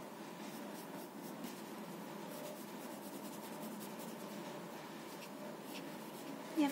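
A 10B sketch pencil shades dark areas on paper in a beach sunglasses scene, giving a steady, soft, continuous scratchy rasp close up with no pauses or voices.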